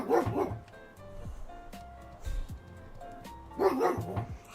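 A neighbour's dog barks a few times at a distance, faint beneath video game music and tones, with short bursts at the start and the end.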